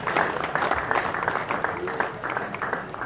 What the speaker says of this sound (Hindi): सारे ग्राउंड स्टाफ के लिए एक साथ दो तालियां